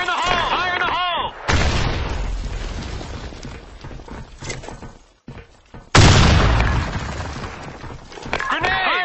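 Two loud grenade blasts in a video game erupt close, each a sudden heavy boom with shattering debris that rumbles and decays, separated by a short gap, with squealing tones and combat noise around them.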